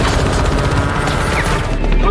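Rapid gunfire in a street firefight from the 2014 film The Purge: Anarchy, dense bursts of shots filling the whole moment with a loud, continuous crackle and heavy low rumble, dropping off near the end.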